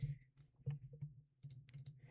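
Computer keyboard typing, quiet and close: a short run of irregular key clicks and taps with brief pauses between them, alone without talk.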